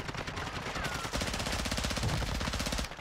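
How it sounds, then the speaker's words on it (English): Sustained rapid automatic gunfire in Call of Duty DMZ, dense rhythmic bursts of close, loud shots running almost continuously for about three seconds. "You are taking effective fire"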